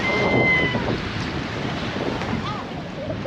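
Wind blows hard across a small boat at sea, a steady buffeting roar with lapping water and a few faint tonal squeaks, continuous and close to the microphone.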